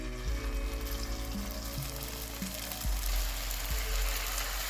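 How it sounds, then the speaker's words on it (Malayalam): Batter-coated cauliflower florets deep frying in hot oil for chilli gobi, a soft steady bubbling sizzle over a low hum with occasional faint knocks, no talk. "ഇങ്ങനെ ഇതേപോലെ നമുക്ക് എല്ലാ കോളിഫ്ലവറും നമ്മൾ വറുത്തെടുക്കുക."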